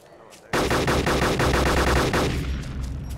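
Rapid automatic gunfire in ARMA 2 DayZ Epoch, a loud close burst of rhythmic shots lasting a few seconds, then tailing off into fainter echoing fire.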